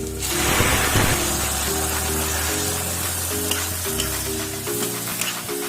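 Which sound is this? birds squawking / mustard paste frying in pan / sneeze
mustard paste frying in pan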